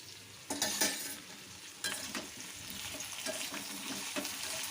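Potato and pointed gourd being stir-fried for a fish curry, a quiet steady sizzle under sharp scraping strokes of a spatula against the pan, heard close with no talking.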